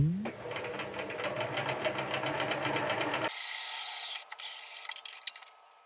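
A sewing machine stitches the right-side-together pieces of a Butterick jumper dress, running steadily and close for about three seconds before stopping, followed by quiet handling noises.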